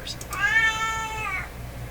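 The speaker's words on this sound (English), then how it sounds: "we're not going to hear from that cat for a while" A house cat lets out one long, drawn-out meow close by, loud and clear against a quiet room with a faint background hum.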